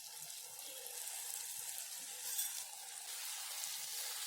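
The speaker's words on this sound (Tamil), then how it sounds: "இந்த சமயத்தில் 3 டீஸ்பூன் புளித்தண்ணி சேர்த்துக்கோங்க" Tamarind water poured into a pan of frying bitter gourd, hissing into a steady, bright sizzle that holds evenly throughout with a faint watery bubbling underneath.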